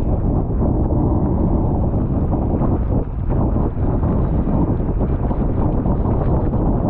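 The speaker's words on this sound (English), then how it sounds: "You can hear that wind." Strong wind roars and buffets the microphone of a bicycle rider out on a route, a loud, steady rush that never lets up and carries no voices.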